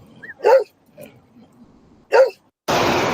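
A rescued dog gives two short, strained vocal bursts, a mild non-aggressive growl or grunt, spaced well apart at close range over quiet background, then a sudden wash of loud broadband noise.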